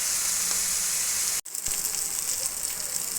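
Pieces of tuna fry in oil in a pan, a loud, continuous close-up sizzle that cuts out for a split second and then hisses on steadily.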